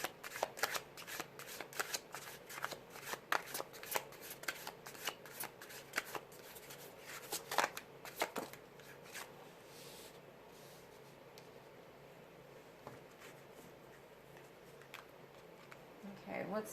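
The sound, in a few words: tarot cards being shuffled for a reading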